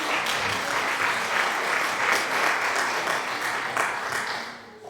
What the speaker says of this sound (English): Thank you for those applause.